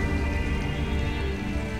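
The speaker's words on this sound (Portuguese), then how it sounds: "Olha a chuva." Heavy rain in the video game Detroit Become Human pours steadily and loudly throughout, a dense continuous wash with no voices over it.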